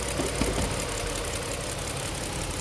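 A car engine idles with its fuel injectors ticking, a steady mid-level hum with a faint rapid clicking running through it and no talk.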